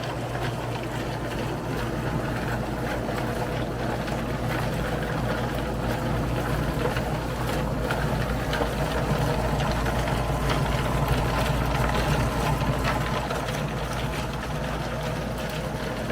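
A Harbor Freight rock tumbler motor, fitted with pulleys, turns several tumbling barrels at once, giving a steady low mechanical hum and rumble with a faint rolling rattle, continuous and fairly close.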